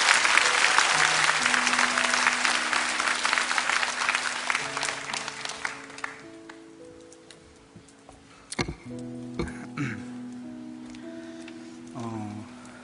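A church congregation gives a loud, sustained round of applause for a young brother coming forward to share his testimony. The clapping fades after about six seconds, and soft tones and a few knocks follow.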